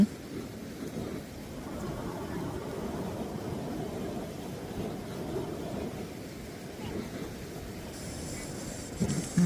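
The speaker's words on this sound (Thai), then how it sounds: "ตอนนี้ก็ฝนกำลังลงเม็ดนะคะเนาะ" Rain falls on the Sebai river as a soft, steady patter and wash, fairly quiet, mixed with light wind rumble and a few brief knocks near the end.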